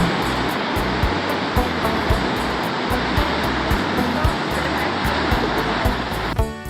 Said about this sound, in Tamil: இது ஒரு அழகான நீர்வீழ்ச்சி இல்லை உயரமான நீர்வீழ்ச்சி